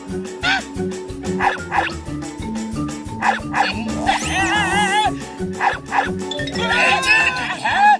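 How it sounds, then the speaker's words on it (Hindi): Wild dogs barking in a Hindi children's cartoon, a string of short, yipping barks and whimpers over a bouncy music score, with cartoon voices and playful sound effects mixed in. "अब जॉन को जंगली कुत्ते काटेंगे"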